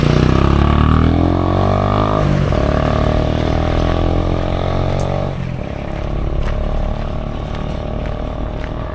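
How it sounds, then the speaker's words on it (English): Heavy, noisy motorbikes climb a hilly village road in Tetu, Nyeri, Kenya, a loud close engine drone with rising revs that shifts as one passes, steady throughout with no talk. "they have the heavy motorbikes, the noisy motorbikes"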